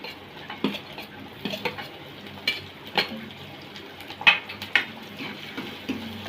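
Green chilli, ginger and garlic fry in oil for prawn masala, a low sizzle punctuated by irregular spoon-on-pan clinks and scrapes, close by with no talk.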